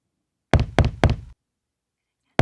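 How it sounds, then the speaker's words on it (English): Three firm knocks on a wooden door in a children's telling of Little Red Riding Hood, close and loud in quick succession with no talk, followed by a short pause before another knock begins at the very end. "When the wolf knocked on Grandma's door"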